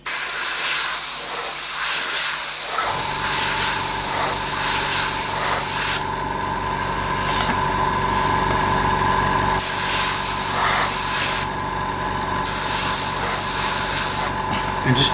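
An airbrush hisses in steady bursts while pre-shading the ribs of a 7mm Heljan VAA wagon model, loud close spray starting and stopping several times over a low background hum.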